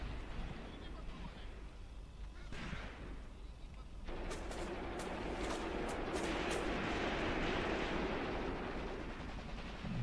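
Sustained battlefield gunfire in the Graviteam Tactics wargame, a steady rumble of distant shooting joined by sharp cracks and bursts that thicken after a few seconds, with someone talking over it.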